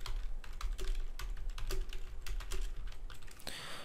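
Close, brisk clicking of a computer keyboard as a short message is typed, with keystrokes in quick uneven bursts and a slightly heavier clack near the end.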